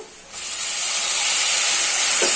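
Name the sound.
tomatoes added to hot pan with browned onions, sizzling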